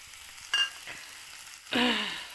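Short bursts of pan frying with stirring, a faint sizzle followed by a louder, sustained hiss as ingredients hit the hot oil, heard alone without voices.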